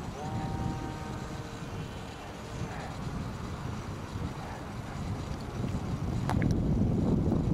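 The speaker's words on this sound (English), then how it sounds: "a little old prop, boy, it's cutting into the wind" Small model airplane propeller cutting into the wind outdoors, a continuous buzzing whir under heavy wind rumble, rising slightly louder toward the end, no talking.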